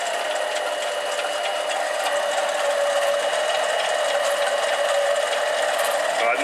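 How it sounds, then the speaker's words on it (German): A drill with a large Forstner bit bores a big hole during a radial seal and pilot bearing job on a Porsche 944, giving a steady, close, high whirring grind that holds evenly throughout without speech. "Bohren mal am Anfang möglichst großes Loch rein."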